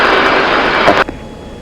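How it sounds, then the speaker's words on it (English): F-16 jet engine running in a DCS flight simulator, a loud steady roar with broadband rumble that cuts off abruptly after about a second, leaving quiet behind. "my engines are running"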